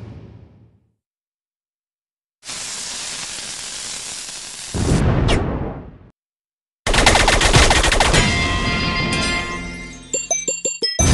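Magical weapon effects from the Mighty Magiswords video game as the Little Blue Bomb Magisword fires, with loud bursts of crackling noise separated by silences, ending in a rapid series of sharp pulsing blasts.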